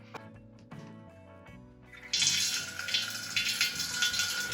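Homebrew wort for a Bavarian wheat hefeweizen pours into a fermenter in a loud, steady rushing gush that starts abruptly after a few light clinks and continues, foaming, to the end.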